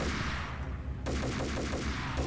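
Gunfire in the video game Max Payne: a sharp blast followed by a rapid burst of repeated shots over a constant low game ambience, loud and close, with no voices.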